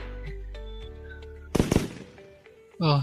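Sharp toy-gun bangs from children burst out in a tight cluster of loud, close cracks midway, preceded by tonal household clatter and followed by a brief squealing sound at the end.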